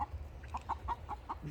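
A chicken on a farm gives a run of five or six short, evenly spaced clucks, close and moderately loud over low rumbling background noise.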